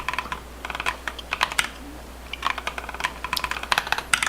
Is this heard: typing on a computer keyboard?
yes